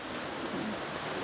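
Rain falls steadily at an outdoor swimming pool, a soft, even hiss of drops with no other distinct sounds.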